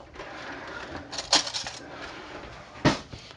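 A spoon is fetched from a kitchen cutlery drawer while weighing flour for a steamed pudding, giving two short bursts of bright metallic clinking and rattling, close by and with no talking.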